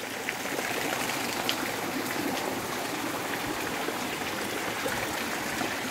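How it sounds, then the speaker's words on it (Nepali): Water pours steadily from the five stone spouts at Koteshwar Shiva temple in Gulmi, a continuous close splashing rush with no voices. "पाँचवटा धारा छन्। यहाँबाट पानी पलाएको छ, यहाँ तल कुलो छ"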